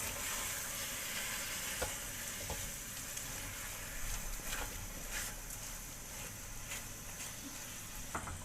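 Beef keema mixed with a cup of browned onion in a pot, a soft, faint sizzle under scattered scraping stirs and light clicks of a spoon.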